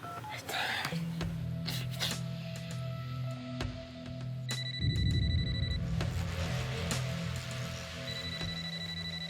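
A phone rings with electronic tones and beeps, fairly quiet, alongside a low hum and some background voices.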